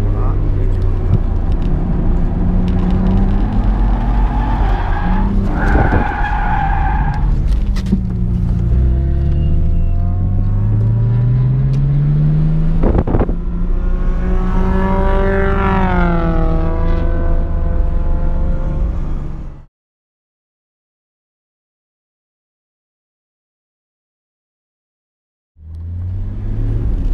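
A Nissan R32 GTR races around Suzuka in a racing game, its engine revving up and down through gear changes with rising whines, loud and close, before cutting to silence and then roaring back. Someone talks over it.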